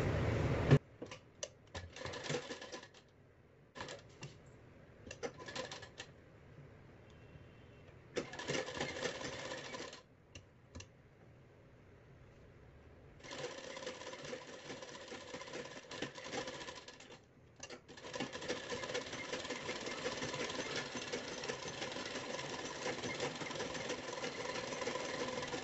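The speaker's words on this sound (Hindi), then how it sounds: "इसके बाद गले पर सिलाई लगा देना है।" An electric sewing machine stitches along the neckline of a blouse in short bursts, its quiet rapid whirring stopping and starting through long pauses before running in longer steady stretches, with no talking.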